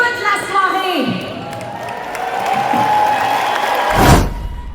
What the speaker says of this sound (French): Une bonne main d'applaudissements pour nos musiciens maison